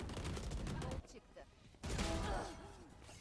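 Rapid automatic rifle fire in the tactical shooter game Valorant, two quick bursts of close, sharp shots split by a brief pause, with a faint voice talking underneath.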